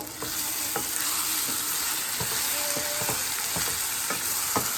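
Tomato brinjal curry simmering in a pan gives a steady soft sizzle, punctuated by a regular series of sharp stirring strokes against the pan, close and without any voices.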